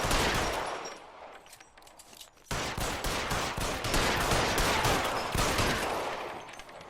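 Rapid gunfire crackles in the L.A. Noire crime game, a quieter opening burst giving way to dense, sustained volleys of shots that stay loud and steady to the end.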